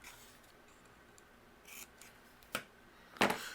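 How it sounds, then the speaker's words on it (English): Scissors snip through patterned photo paper to fishtail the ends of a strip for a holiday card, in a few short, crisp cuts, quiet at first and then sharper, with faint rustling in between. "just using my scissors here."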